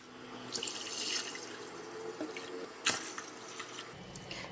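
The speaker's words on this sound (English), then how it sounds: "I put in 3 liters of water in the pot." Water poured into a cooking pot for ginkgo longan soup, a close, fairly quiet stream with splashing and a few dripping spots, steady then tapering, with a sharper splash near the end.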